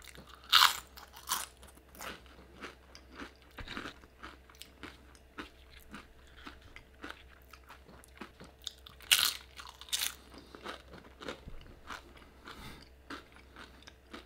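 Crunchy tortilla chips from a Mexican taco restaurant being bitten and chewed close to the microphone, with loud, irregular crunches and a steady low hum underneath.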